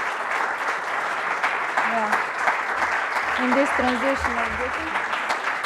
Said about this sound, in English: give an applause to her as well